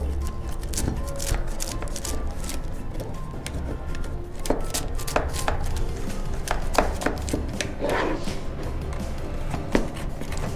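A palette knife works around the crispy edges of a chocolate fudge brownie to loosen it from the mould, producing a steady run of light crackly scrapes and sharp little taps close up.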